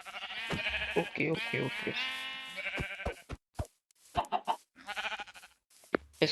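Sheep in Minecraft bleat several times in short wavering calls, with a voice speaking briefly between them and a few sharp clicks near the end.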